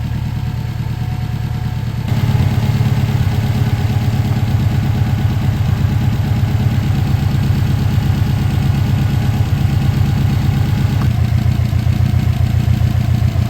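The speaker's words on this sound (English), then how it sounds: "I turned the car on. We're gonna let it sit and idle for about 10-15 minutes." A Subaru car engine idles steadily, with an IAG AOS V3 air-oil separator newly fitted. The idle is close and even, with a constant low rumble, a slight step up in level after the start and no voices.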